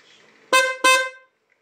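A motorcycle horn powered by a freshly recharged 12.8-volt battery honks twice, two short, loud beeps close by with a brief gap between them, then silence.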